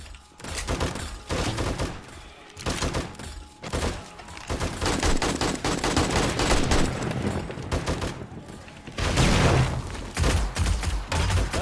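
Rockets and gunfire blasting at mobs in the 7 Days to Die video game, a dense, continuous barrage of loud booms and rapid shots with bursts of explosions throughout.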